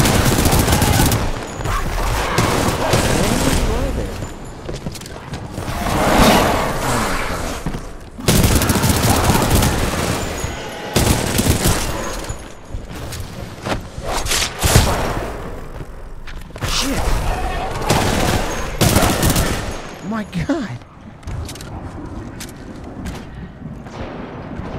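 Sustained gunfire in the Titanfall 2 story campaign, Satellite Repair mission: dense, loud fusillades of rapid shots with heavy thumps, broken by short pauses, continuing throughout.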